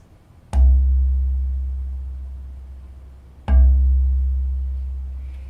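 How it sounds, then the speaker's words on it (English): Two struck notes on a classroom bass bar, the lowest instrument in the room, each a deep booming tone that rings on and slowly decays, the second following about three seconds after the first, loud and close with no talking. "So this is the lowest sound in my whole classroom. It's called a bass bar,"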